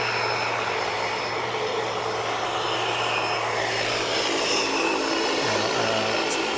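A fixed-wing airplane at Wellington Airport roars steadily with a broad, loud engine wash and a low droning hum, sustained throughout as it climbs away after a late nose lift, with no talk over it.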